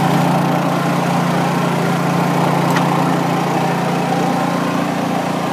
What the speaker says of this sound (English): Generator's quiet enough that you can hear me over it.